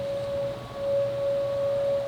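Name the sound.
civil defense siren during monthly test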